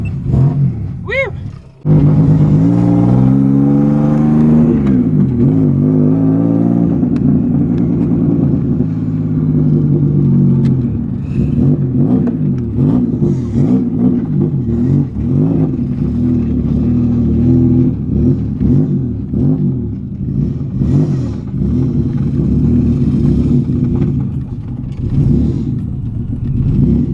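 A BMW E36 race car with an M50 engine drives down a street, its engine loud and close, climbing and falling in pitch through repeated revs and gear changes, with a brief lift-off near the start and a steady rumble throughout.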